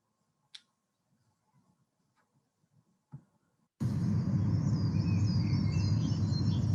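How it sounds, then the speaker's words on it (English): A dawn chorus around six in the morning, with coal tits and great tits singing among other birds: faint sparse chirps and clicks first, then a sudden dense, loud wash of overlapping song. "We've got coal tit and great tit added in there."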